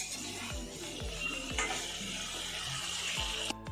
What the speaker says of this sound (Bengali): এখানে মাংস কষাচ্ছে